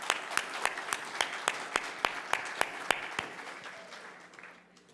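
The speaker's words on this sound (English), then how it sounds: "everybody give them a big round of applause." An audience at a Boca Raton caregivers event gives a round of applause, with a few sharp, distinct claps standing out over the crowd's patter before it tapers off toward the end.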